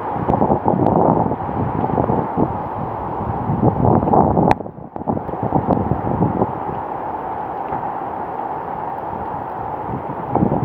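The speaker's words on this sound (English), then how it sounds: "I got a couple of pretty good gusts in there" Strong hurricane wind gusts buffet the microphone outdoors in a steady, loud roar, with a brief dip partway through before the blustery rush resumes.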